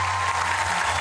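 An audience at a squash trophy ceremony for the Egyptian international championship claps in a steady, dense wash of applause, close and sustained with no pauses.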